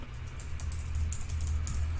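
Quick, light clicks of a computer keyboard as a URL is typed, a steady close patter of keystrokes with no voices.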